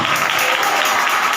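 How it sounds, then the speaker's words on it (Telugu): An IPC church congregation at an anniversary service in Wyra claps loudly and steadily, many hands beating together in a dense, rhythmic burst that fills the whole moment. "ఇంకొకసారి గట్టిగా చప్పట్లు కొట్టి స్తోత్రం చెప్పు"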